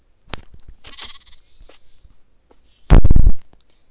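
A loud, close sheep bleat from a Minecraft video game, one short burst near the end after a few quieter clicks and thumps, with a steady high tone running underneath.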